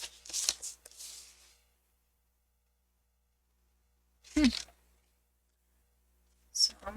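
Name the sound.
cutting and scoring cardstock for a card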